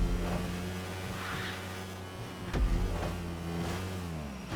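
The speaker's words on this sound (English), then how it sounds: "it's kind of amazing to actually be racing a go-kart around the kart track that was created" Go-kart engine racing around the Los Santos GP kart track in GTA 5, a continuous buzzing mid-pitched motor with shifting revs and a brief bump thud midway, heard alone.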